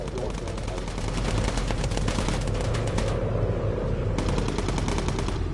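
Rapid fighter strafing gunfire in the Bomber Crew video game: dense bursts of machine-gun fire, loud and sustained, with a short lull before another burst.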